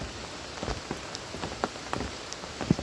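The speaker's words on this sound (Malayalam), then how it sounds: "മഴയാണ്, നല്ല മഴ." Heavy rain pours down as a dense, continuous patter on surfaces, with scattered louder drops standing out close by and no voices.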